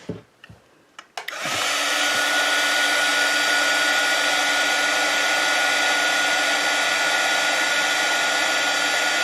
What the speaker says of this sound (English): And we'll heat set this.